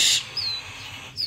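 A tame barn owl calling up close, a loud, raspy hiss followed by two thin, high drawn-out screeches, separated by a short gap, with no talk.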